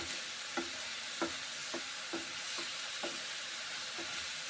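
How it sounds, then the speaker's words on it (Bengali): Mung dal fries in a pan under a steady soft hiss, broken by regular spatula scrapes about every half second as it is stirred, with no voices. "ভেজে নিচ্ছি এখন মুগের ডালগুলো"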